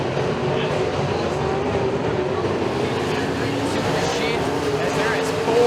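UMP modified race cars roaring around Stateline Speedway, a dense continuous engine drone from the pack with no breaks, loud and steady throughout.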